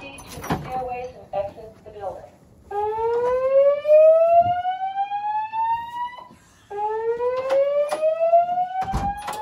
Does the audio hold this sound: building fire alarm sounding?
yes